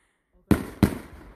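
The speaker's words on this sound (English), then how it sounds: "It's a very slow fireworks show on our end." Two sharp New Year fireworks bangs crack in quick succession, close and loud, each trailing off briefly.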